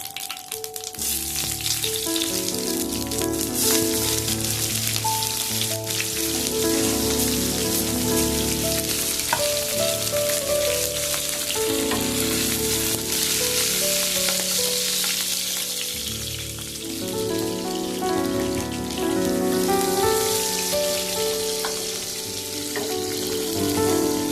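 Continuous loud sizzling of chopped onions frying with cumin in a wok, with music playing over it throughout.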